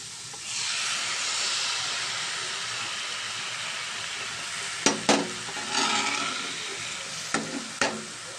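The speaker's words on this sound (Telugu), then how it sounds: "గుడ్డు ఎగ్ బాగా ఫ్రై అయింది" Egg and carrot frying in a covered pan give a steady, moderately loud hiss that runs throughout, with a few short clattering stirs or lid knocks near the end.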